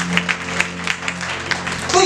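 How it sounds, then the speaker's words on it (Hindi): A church congregation claps during a sermon, with scattered, uneven hand claps under a pastor's voice for about two seconds. "जोर से परमेश्वर के लिए तालियां बजाएंगे"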